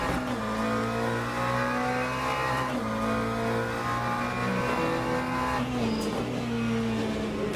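A Ferrari 499 race car in the Le Mans Ultimate video game revs loudly and continuously, its engine pitch climbing and dropping sharply at each gear change.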